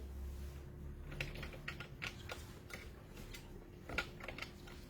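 Someone presses keys on a card payment POS machine, a series of soft, irregular clicks close by over a low background hum.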